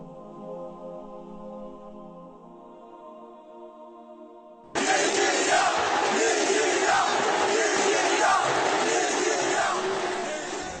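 Stadium crowd chanting in the stands: after a quiet tonal passage, a loud, massed roar of voices bursts in and carries on steadily to the end.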